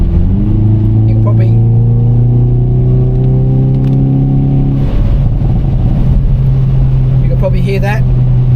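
A 2024 Hyundai i30N hatch in N mode, its engine and exhaust holding a loud steady drone, then the revs drop and settle into a lower rumbling idle, with someone talking over it.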